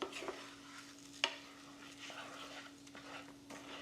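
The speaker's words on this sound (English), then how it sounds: "I just want the rice to saute without any liquid for a couple of minutes" Risotto rice toasts in olive oil, butter and chili crisp, giving a faint, soft sizzle with light stirring scrapes and a single sharp clink of a utensil on the pan.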